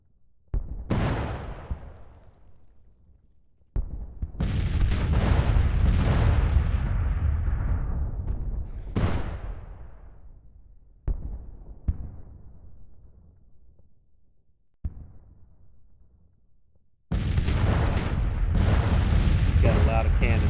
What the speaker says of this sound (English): Got a lot of cannons up on that ridge.